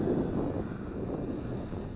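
An XK X520 brushless VTOL RC airplane gliding down with the throttle cut back: a steady, fairly faint airy whoosh with a thin, constant high motor whine, heard outdoors with no talking.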